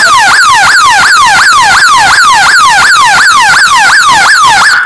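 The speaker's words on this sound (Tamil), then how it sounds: "ரெண்டாவது வந்து சைரன் சிஸ்டம் இருக்குது பாருங்கள்" A loud electronic solar fence alarm siren wails in a fast repeating rise-and-fall pattern, about two cycles per second, steady and close with nothing else audible.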